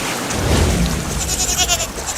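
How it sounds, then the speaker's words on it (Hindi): Goat bleating amid floodwater in a flooded village, a wavering animal cry rising over continuous rushing water and rain-like wash, fairly loud and close with no talk. "मम्मी, उधर भी देखो, एक बकरी और गाय भी पानी में बह रहे हैं।"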